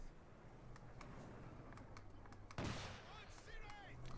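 A single sharp sniper shot cracks out in Company of Heroes 2, a broadband burst that stands out briefly over a busy bed of battlefield noise and a speaking voice.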